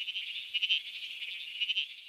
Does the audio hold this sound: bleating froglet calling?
yes